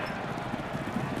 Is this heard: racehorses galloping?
yes